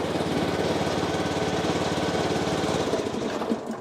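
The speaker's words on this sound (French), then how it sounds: "mon bon vieux tracteur tondeuse qui va me servir à tondre ici" An old riding lawn mower tractor engine runs steadily, a loud, close, even chugging drone with a rough low rumble that holds throughout before easing slightly at the end.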